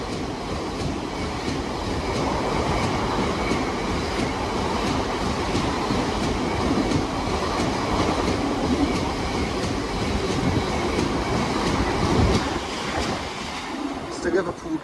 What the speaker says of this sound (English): incoming is the 1442 Avanti West Coast service to London Euston from Glasgow Central